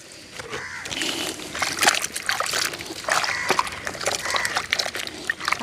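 A bucket is scrubbed and rinsed with water, giving irregular close splashes, sloshing and knocks that come in uneven bursts, with little or no talk.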